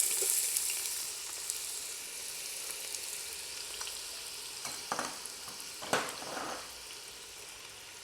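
Finely chopped onions, three of them, sizzling in about 150 ml of hot oil, a steady broad frying hiss with occasional sharper crackles and stirring scrapes, close and continuous with no talking.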